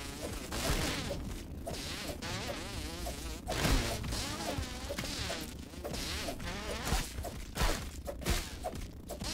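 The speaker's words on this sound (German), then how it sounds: "So, dort sind drei Mücken." Three mosquitoes in the video game Grounded buzz with a close, wavering whine that rises and falls in pitch, broken by occasional whooshing swings and thwacks, with no talking.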